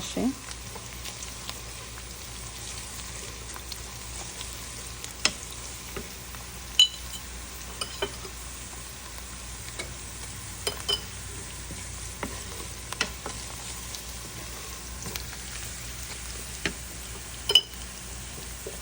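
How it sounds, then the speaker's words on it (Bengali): Onions frying gently in a pan with panch phoron spices, a low continuous sizzle with occasional faint spoon taps and clicks, quiet and close, no talk. "পেঁয়াজটা একটু ভাজা ভাজা হয়েছে তো এর সাথে পাঁচফোড়ন দিয়ে দিব"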